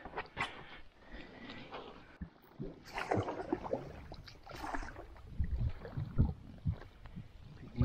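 A boat paddled down a river makes quiet irregular splashes and water swishes, fairly close, with some wind noise and no talking.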